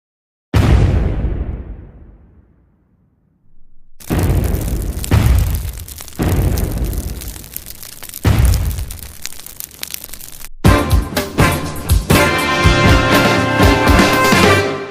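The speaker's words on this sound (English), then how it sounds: "there are incoming reports of a massive explosion in a somewhat sparsely populated area near our southern border" A massive explosion sound effect opens with one huge boom that rumbles away to silence. A run of heavy blasts follows, then a dense, crackling roar of debris and fire, loud and close, with no talk.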